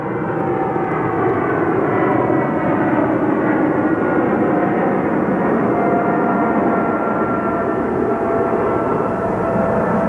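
A steady, loud roar of an airplane engine fills the whole stretch, a broad continuous drone with no pauses or voices.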